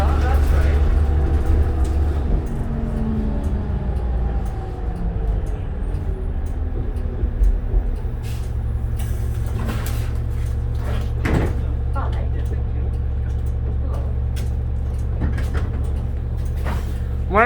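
A 2007 New Flyer D40LF city bus rolls along, its low engine and road rumble steady throughout, with clunks and rattles of the cabin. People talk over the ride.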